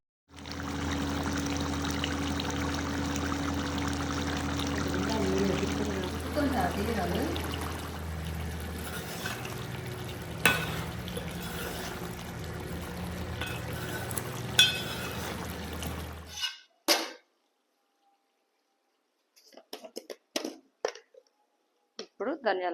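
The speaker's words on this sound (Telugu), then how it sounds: "ఇప్పుడు కలుపుదాం. బాగా కలపాలండి." Spiced goat tripe curry is stirred in a pot, giving a continuous wet, sloshing scrape with scattered clinks, then stopping abruptly before a few brief knocks and a voice in a quiet room.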